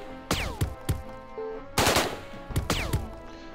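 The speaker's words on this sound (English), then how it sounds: "Dynamo burst fire" Bursts of automatic gunfire in the video game Jagged Alliance 2, several sharp clustered volleys of shots with ringing tails, loud and close, with brief gaps between bursts.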